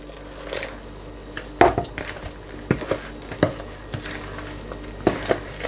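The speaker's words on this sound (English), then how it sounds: "we're going to add the water in, and we're going to add enough water to be able to make sort of like a thick batter" Water is stirred into a thick spinach and potato pakora batter, heard as irregular clinks and scrapes of a utensil against a bowl, close and moderately loud over a quiet kitchen background.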